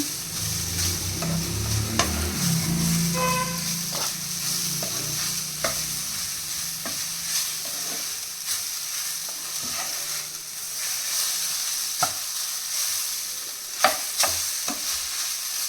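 Tapioca side dish stirred and fried in a pan without water, a continuous close sizzle with occasional scraping strokes and clicks of the spoon against the pan.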